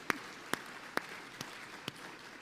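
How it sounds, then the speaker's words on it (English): Sparse audience applause at a governance, risk and compliance summit in Baltimore: about five separate, fairly faint claps spread over two seconds, with no talk. "We can give them a round of applause."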